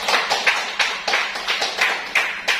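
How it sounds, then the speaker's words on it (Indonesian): A classroom of students claps for group 4 as it comes up to present in a mathematics lesson: a loose, uneven patter of hand claps in quick bursts, close and fairly loud, with no talking. "Tepuk tangan untuk kelompok 4"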